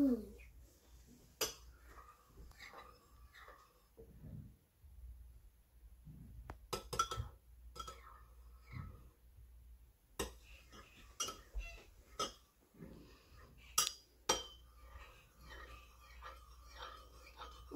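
A spoon stirring and mixing in a glass, with sharp, irregular clinks against the glass and quieter scraping between them over a hushed room background.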